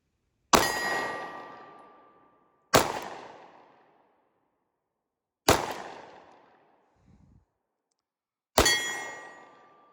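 Four sharp gunshots spaced a couple of seconds apart, each followed by a bright metallic ring from a steel target, with a faint distant clank between the third and fourth shots, fired through a Cyelee CAT0-G optic.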